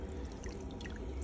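A LUXSPA X6 LS250 pedicure chair basin fills with water on autofill, producing a steady, continuous rush of running water close by with no talking.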